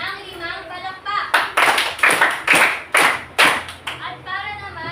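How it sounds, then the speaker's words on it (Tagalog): A classroom of students claps five times in unison, sharp evenly spaced group claps with a short pause between each, surrounded by faint chatter before and after. "Bigyan niya natin si Amira ng 5 palakpak."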